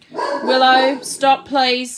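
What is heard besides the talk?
dog barking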